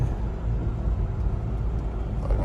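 A car drives along a wide road in Korea, its steady low engine and tyre rumble continuing evenly throughout without pause.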